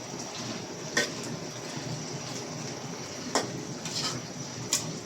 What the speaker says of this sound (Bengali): ফুলকপিটাকে রান্না করা হচ্ছে। ফার্স্টে তেল দেওয়া হলো